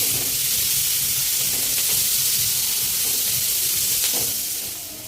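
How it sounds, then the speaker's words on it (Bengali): Onions sizzle as they fry in a pan until soft for Indo-Chinese crispy chicken, a steady close, loud hiss with a few soft scrapes of stirring mixed in. "পেঁয়াজগুলো একটু সফট হওয়া পর্যন্ত ভেজে নিতে হবে।"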